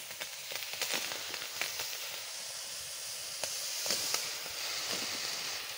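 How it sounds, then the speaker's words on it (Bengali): Red taro leaves, freshly washed and splashed with water, steam in a hot wok with a steady hiss, punctuated by crackling sizzles and spits, close and fairly soft. "আর একবার কড়াইতে আমি দিয়ে দিচ্ছি, একটু ভাপাইয়ে নেব।"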